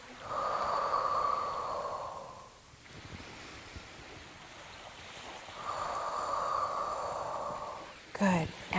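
Two long, deep, audible breaths taken during a slow breathing exercise, each drawn out for a couple of seconds with a quieter gap between them, close to the listener.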